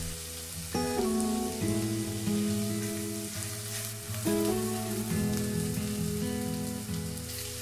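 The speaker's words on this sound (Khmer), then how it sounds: "យើងត្រូវដាក់ខ្ទឹមសនិងខ្ទឹមក្រហមរួចបំពងវាឲ្យឈ្ងុយ" Garlic and shallots fry in oil in a home kitchen, a steady soft sizzle running beneath louder instrumental background music throughout.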